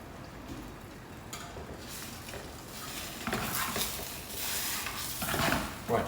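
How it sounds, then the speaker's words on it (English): Chicken shawarma frying in a pan, a steady crackling sizzle with scraping and stirring from a utensil and light clinks of metal against the pan, getting busier and louder toward the end. "remember when you do any frying, be brave"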